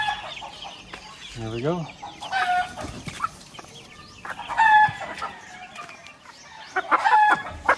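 Chickens cluck and a rooster crows as birds are released into a new homestead coop, with bursts of calls scattered through the clip and a short spoken remark partway through.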